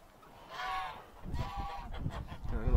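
Domestic geese honk repeatedly from a farm enclosure, a few nasal calls at moderate distance mixed with shuffling and low thumps nearby.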